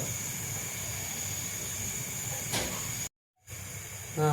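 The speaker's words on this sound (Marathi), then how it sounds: "बघा आता ही कढीला बघा कशी उकळी आली बघा." Kadhi, a yogurt curry, boiling in a pot, giving a steady hissing, bubbling wash that runs continuously, broken by a brief cut to silence before resuming.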